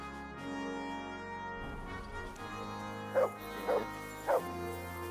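A dog in Kingdom Come Deliverance 2 gives three short, soft barks or yips in a row over a steady game soundtrack, with no one talking.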